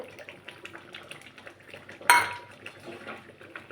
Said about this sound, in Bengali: এবার এটার মধ্যে মটরশুঁটি অ্যাড করব।